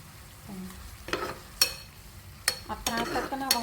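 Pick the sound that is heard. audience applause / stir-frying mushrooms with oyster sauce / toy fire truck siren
stir-frying mushrooms with oyster sauce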